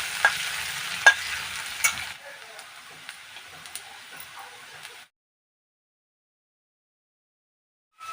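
Garlic, potatoes and onions fry in a pan, a soft sizzle with a few sharp spatula taps early, then a quieter hiss that fades out into silence around the five-second mark.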